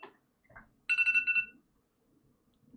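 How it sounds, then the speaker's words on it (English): A phone timer alarm rings in a short burst of bright electronic beeps, fairly close and alone, between quiet background noise. "Oh, that's my timer."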